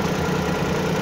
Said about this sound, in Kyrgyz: Мотордун үнүн угуңуздар.